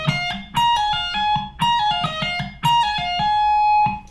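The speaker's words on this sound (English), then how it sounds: "I'm going to do a 5-note pattern, a 4-note pattern, 5 again, and then 4 again." Distorted electric guitar alternating five-note and four-note shred patterns from a solo, heard as loud, close bursts of rapid picked notes separated by brief gaps, the final phrase ringing out.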